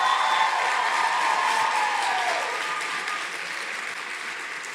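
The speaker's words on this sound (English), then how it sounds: "Round of applause." Audience applause for newly matched medical students at a Match Day event, a dense, sustained burst of clapping that fades slightly toward the end, with no speech over it.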